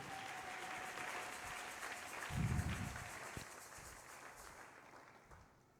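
Applause from a church congregation at a Sunday service, a sustained spread of clapping that swells briefly midway, with a low thump, then tapers off toward the end.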